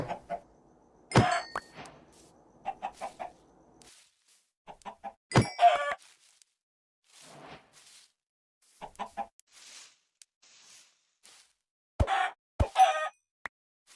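Chickens cluck in Minecraft in short, scattered bursts with quiet gaps between them, plus a few sharp clicks, and no talking.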